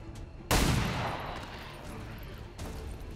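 A sharp gunshot from a pistol in XCOM 2 cracks out loud and decays into a long echoing tail, then a second, fainter shot follows a couple of seconds later.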